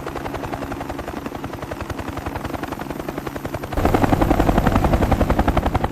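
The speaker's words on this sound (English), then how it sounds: "The helicopters arrived faster than the defenders expected." Military helicopters in 1968 combat come in to land with a fast, rhythmic rotor chop. It grows suddenly louder and heavier partway through as the aircraft draw close, and no voices are heard.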